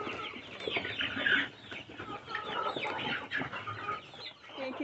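Young chicks of a red free-range broiler breed clucking and peeping continuously in a farm pen, a busy, overlapping chorus of many birds close by.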